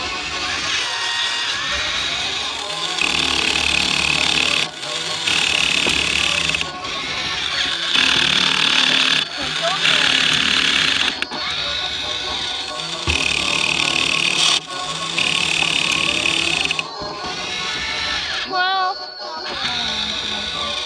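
A mini toy claw machine runs through a game, its steady whirring motor and buzzy mechanism droning loud and continuous, with brief pauses and a few clicks near the end.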